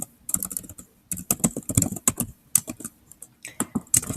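A short answer is typed on a computer keyboard: quick, irregular clusters of crisp key clicks with brief pauses between bursts, close and fairly quiet, with no talking.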